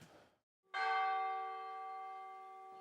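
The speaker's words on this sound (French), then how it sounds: "Une cloche d'église" A single church bell in a village strikes once loudly after a short gap, its rich metallic tone ringing out and slowly decaying, with faint background noise before it.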